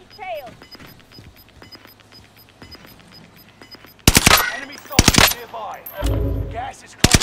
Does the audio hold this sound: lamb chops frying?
no